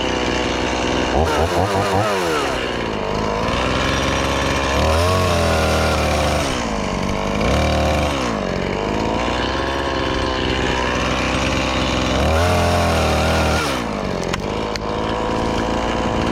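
Chainsaw cutting limbs off a big tree while the operator is up in the tree, revving loudly and steadily with repeated rising and falling bursts of engine pitch.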